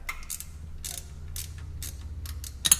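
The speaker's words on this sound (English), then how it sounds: "grab a 12mm end wrench and go ahead and remove that bolt and the breather bracket" A 12mm end wrench turning a differential breather bolt on a Toyota Tacoma, a series of close, crisp ratcheting clicks in short bursts with a low mechanical hum underneath and a sharper clatter at the end.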